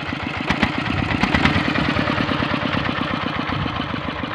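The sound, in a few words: Kubota RD85 tractor engine throttled up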